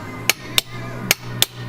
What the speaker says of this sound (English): I gotta center punch